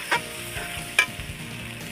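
A spatula stirs fried rice with cashew and poppy-seed paste, sugar and spices in a pan, giving a couple of sharp scrapes over a steady low sizzle.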